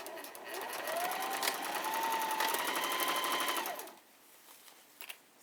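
A sewing machine stitches across a fabric sandwich bag in one continuous rapid run of needle clatter and motor whine, close and clear, then stops, leaving quiet room noise.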